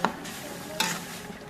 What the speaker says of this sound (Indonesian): semua bumbunya aku masuk, aku tumis seperti biasa